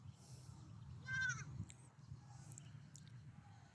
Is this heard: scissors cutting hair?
no